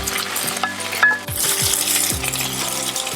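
Onions, tomatoes and spinach sizzle in a hot pan for scrambled eggs while being stirred, with steady frying hiss and several close metallic scrapes and clinks of the utensil against the pan.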